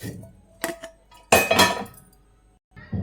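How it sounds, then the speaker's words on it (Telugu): Roasted poha being tipped from a pan into a steel bowl, with two clattering bursts of metal scraping and flakes pouring, close and moderately loud. "అటుకులు కూడా ఒక గిన్నెలకు తీసేసుకుందాం."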